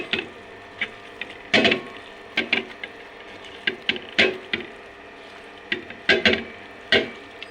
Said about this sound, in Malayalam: ജസ്റ്റ് ഇളക്കി കൊടുത്താൽ മതി